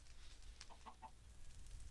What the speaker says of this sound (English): There's a chicken in